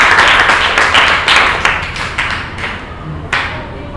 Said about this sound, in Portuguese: eu queria uma salva de palmas para vocês por toda a dedicação